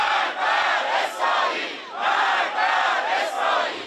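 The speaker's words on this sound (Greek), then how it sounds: "Οργισμένο πλήθος διαδηλωτών στην Τεχεράνη ζητά εκδίκηση" An angry crowd of protesters in Tehran demanding revenge, a dense roaring mass of shouting voices rising and falling in chanting waves, loud and sustained.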